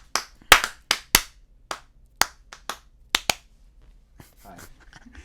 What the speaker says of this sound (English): Clap on 3.